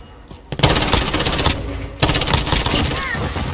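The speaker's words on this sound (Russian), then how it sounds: "Ну да, там стрельба." Rapid automatic gunfire in the Warzone video game rattles in two loud, dense bursts, with voices talking over it.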